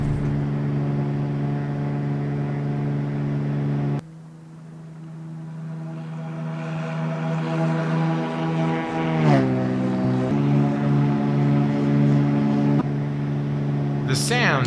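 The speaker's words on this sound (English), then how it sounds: "The sounds are without a doubt exceptional, especially the engine sounds." Cessna U206G Stationair piston engine in the X-Plane 12 flight simulator, a steady loud drone that climbs in pitch as full power comes on for takeoff, with a brief dip and harmonic shifts midway as power is adjusted.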